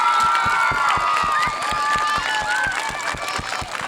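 A crowd at an elementary school beam topping ceremony claps and cheers loudly, with rhythmic clapping and excited shouts and whistles carrying on throughout.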